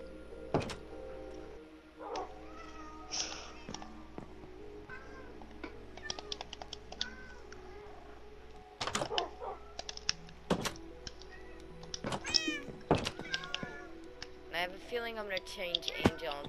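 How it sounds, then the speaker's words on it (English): Cat meows in the Minecraft video game, short mewing calls scattered among keyboard taps, clicks and other game sounds at a modest level, with talk around them. "a cat named Angel after our cat"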